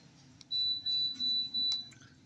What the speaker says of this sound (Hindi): दो दबा बीप की आवाज़ आएगी तो पंखा ऑटोमेटिक चालू हो जाएगा।